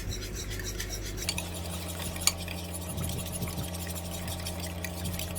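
Chocolate cake batter is stirred in a bowl, with scraping and clinking of a utensil against the sides, a sharp knock partway through, over a low steady hum.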